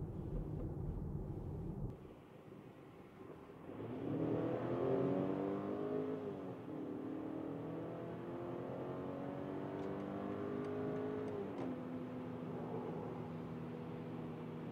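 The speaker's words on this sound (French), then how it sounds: "c'est la première accélération avec la X320" BMW X3 20 SUV pulls away and accelerates hard, engine note climbing through rising gear pulls with a shift or two, heard from inside the car over steady road rumble, no talking.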